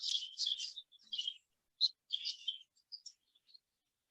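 Young budgies chirp in a baby cage inside an aviary, a quick string of high, bright tweets and short calls in small bursts, close and clear against silence.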